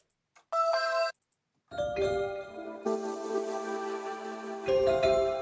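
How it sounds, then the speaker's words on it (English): Bright synthesized bell preset tones in FL Studio ring out in short chimes, then sustained layered notes forming a simple trap-beat melody, clean and electronic. "I'm going to get a bell."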